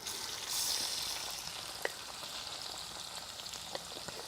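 Pork chop and meat frying on a discada disc give a steady, fairly quiet sizzle that runs the whole time, with a couple of brief crackling pops and no talking.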